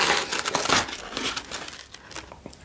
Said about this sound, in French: je vais couper le scotch.